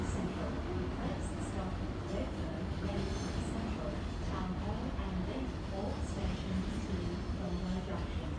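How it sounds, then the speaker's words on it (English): A Tangara train arrives at Erskineville platform 3, a steady low rumble and rolling wheel noise close by, continuous throughout with faint squeals on top. "Tangara arriving into platform 3, Bondi Junction service"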